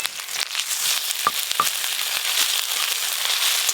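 Reddened fried onions with ginger garlic paste sizzle steadily in a pan, a close, continuous hiss broken by a few sharp crackles and pops.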